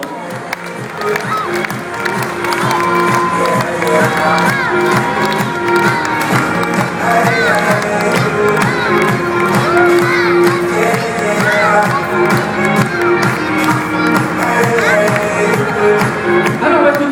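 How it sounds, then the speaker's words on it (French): A dense crowd at a fashion show cheers and applauds continuously, a loud steady wash of clapping, whoops and voices that holds level for the whole stretch. "applaudissements"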